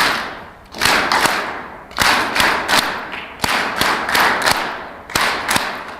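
Rotary International gathering audience performing a rhythmic group happy clap: sharp unison claps in repeated patterned bursts, loud and close, with no talk over them.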